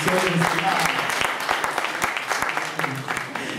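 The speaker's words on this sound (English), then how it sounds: "let's give God a hand clap of praise for those who are viewing the service live" A church congregation at a Pentecost Sunday service gives a hand clap of praise, a scattering of distinct sharp claps mixed with lively crowd chatter and voices throughout.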